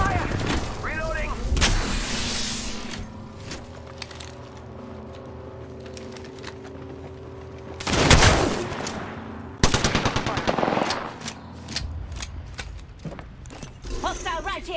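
Gunfire crackles through a fight in the video game Apex Legends, with repeated bursts of automatic fire and heavy louder blasts near the middle and later on, mixed with in-game voice lines.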